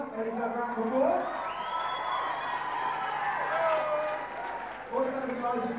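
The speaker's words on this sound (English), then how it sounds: "ready to have a round of applause." Audience at a school band night in 1987 clapping and cheering after the band and lighting crew are thanked, with whoops and shouts mixed into a crowd roar, while voices carry over the noise.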